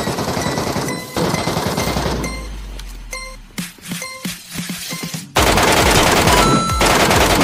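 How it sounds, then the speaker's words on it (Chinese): Automatic gunfire in the Metro Royale shooter game: loud, dense rattling bursts, then a break of sharper separate shots before heavy fire resumes at full strength. No voices. "前面有枪声，我看看是什么情况。"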